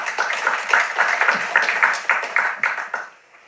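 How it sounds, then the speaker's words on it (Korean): An audience of delegates applauds at a meeting, a dense burst of clapping from a room full of people that holds for about three seconds and then quickly dies away. "큰 박수로 격려해 주시면 대단히 고맙겠습니다."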